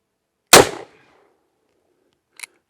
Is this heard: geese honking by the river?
no